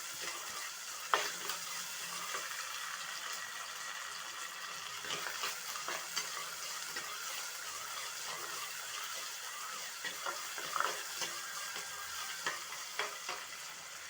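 Onion frying in a pan for crab soup while being stirred, a steady sizzle with intermittent scraping strokes of a spoon, close and moderately quiet.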